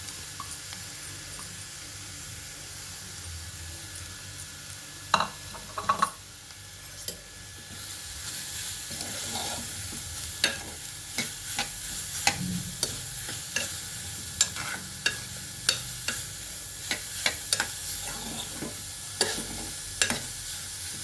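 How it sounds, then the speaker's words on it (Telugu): Grated carrots fry in ghee in a small pressure cooker, giving a steady soft sizzle, while a spoon knocks and scrapes against the metal in regular, sharp taps, close by and with no voices. "క్యారెట్ వేగించుకుందామండి నెయ్యిలో."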